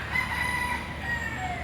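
A rooster crows in the distance, drawn-out and steady, over a constant outdoor hum of traffic or machinery on a roadside in the morning.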